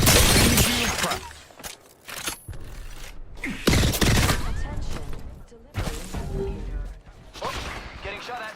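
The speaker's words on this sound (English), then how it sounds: "Whoa, they're shooting at me. I broke an opponent's shield." Loud bursts of gunfire and sharp cracking shield breaks erupt in a video game, coming in repeated volleys separated by brief lulls, with a voice talking in between.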